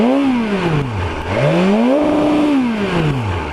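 A 2020 BMW S 1000 RR motorcycle engine, rev-limited, revs loudly up and down in two close, rising-and-falling sweeps with a throaty, buzzing exhaust tone.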